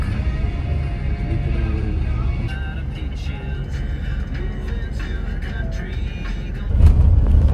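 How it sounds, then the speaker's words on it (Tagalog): Road traffic rumbles steadily, with car engines and a low droning hum swelling louder near the end, and speech running over it. "Oh my God, traffic."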